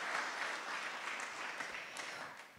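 Audience at a book launch town hall applauding in a sustained, moderately distant round of clapping that tapers off toward the end.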